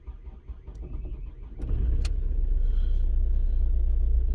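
A diesel engine cranks with a rapid uneven churn, then catches roughly into a loud, low rumbling idle that holds steady, sounding strained as it struggles to run.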